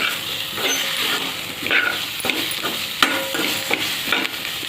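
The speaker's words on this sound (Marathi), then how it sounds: "बटाटा अगोदर का घालायचा, कारण तेलामध्ये जरासा फ्राय होतो" Potato pieces and capsicum fry in hot oil in a pan for a Marathi-style bhaji, with a continuous sizzle broken by repeated scraping stirs of a spoon, close and fairly loud, with no talking.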